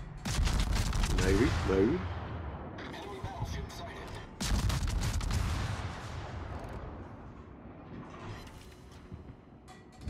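Warship guns fire in World of Warships in two heavy salvos, each a loud boom that rolls into a long fading rumble. Mechanical clanks follow, and someone speaks briefly.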